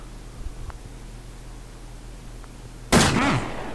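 A single loud gunshot in the Resident Evil 2 mobile horror game lands a headshot on a zombie, a sharp burst near the end after quiet ambience with faint clicks.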